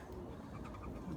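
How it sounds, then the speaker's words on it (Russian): Pigeons cooing faintly in an outdoor dovecote near a water basin set out for bathing, a soft low murmur running steadily through the brief, quiet moment. "Свистят, голуби свистят"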